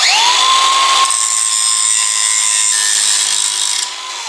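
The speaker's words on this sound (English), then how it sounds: "So I'm just gonna take our grinder and just grind them down" An angle grinder grinds down metal bolts on a van swivel seat plate, a loud, steady high-pitched whine that holds for about four seconds before easing off slightly at the end.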